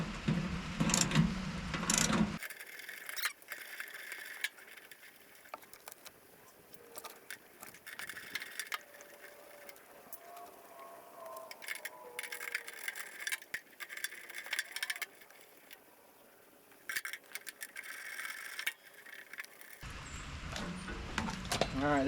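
A cheap firewood conveyor runs with a quiet mechanical clatter, light rattling and intermittent creaks, sandwiched between louder bursts of handling noise at the start and end.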